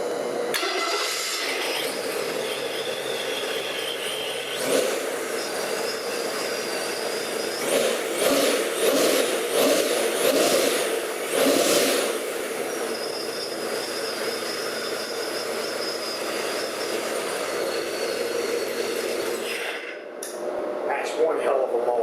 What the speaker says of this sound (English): That's one hell of a motor.